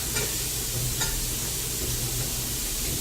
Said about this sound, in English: So now I'm adding the onions.